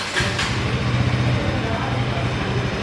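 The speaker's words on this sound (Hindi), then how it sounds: "जो बाइक का आइडल साउंड है यू कैन लिसन" A 2025 KTM Duke 160 motorcycle engine idles with a low, steady, slightly lumpy rumble, continuous and close throughout.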